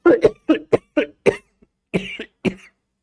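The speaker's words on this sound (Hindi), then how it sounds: "मुझे थोड़ी खांसी हो गई है।" A person coughs repeatedly, about seven short dry coughs in two clusters, close and alone in a quiet room.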